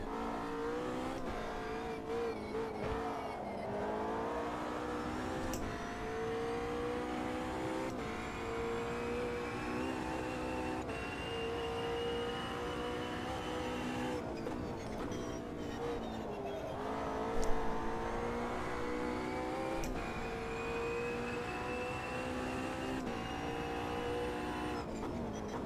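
Race car engine in the Automobilista 2 racing game, a steady loud drone with rising and falling pitch through gear changes, continuous with no talk over it.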